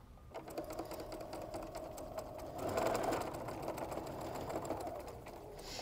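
Sewing machine stitching pinned quilt pieces along a quarter-inch seam, a steady mechanical hum with fine rapid needle clicks running throughout, close and moderately loud.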